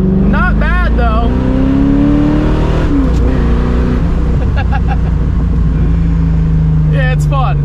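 A C4 Corvette drives along with a steady, droning engine note heard from close by. A voice talks over it briefly at the start and again near the end.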